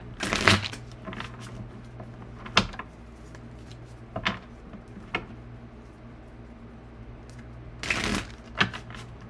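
A few quick riffles of tarot cards being shuffled, close and crisp, with scattered soft taps between bursts and a steady low hum behind.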